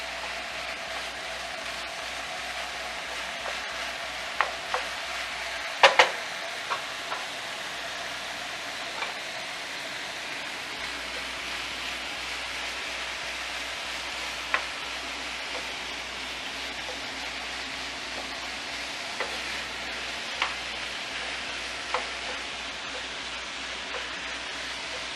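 Ground beef browning in a pan over high heat for stuffed peppers gives a steady, even hiss of sizzling fat, broken by a few sharp, sparse clicks and taps, with no voices throughout.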